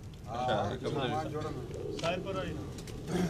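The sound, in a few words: pigeons cooing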